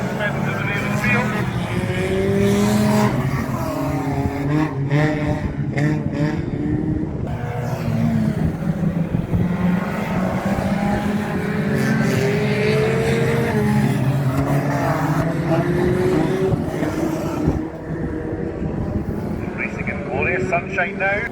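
Banger racing cars at Crimond Raceway in Scotland during an end-of-season ladies' race, engines roaring continuously with revving, rising and falling passes, under steady commentary over a public address.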